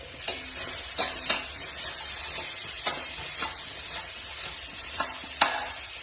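Onions sizzle in hot oil with masala while a spoon stirs them, clacking against the pan every second or so. The frying hiss stays steady and close throughout, with no voices.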